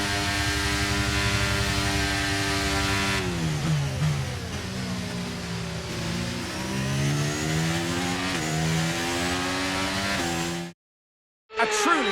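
Formula 1 car in the racing game F1 23 at the US Grand Prix in Austin, a loud, steady engine drone with shifting pitch sweeps as it changes speed, running continuously before cutting abruptly to silence near the end, with game music or hum underneath.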